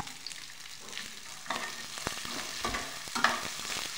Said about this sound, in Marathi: 2 मिनिटं परतून घ्यायचं.